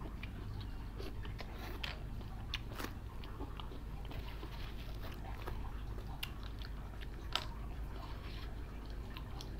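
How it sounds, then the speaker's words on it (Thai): Close, quiet chewing of crunchy cockles prepared as a Thai miang snack, with steady crisp bites and squishy mastication over a faint background murmur. "หอยแครงกรอบมาก"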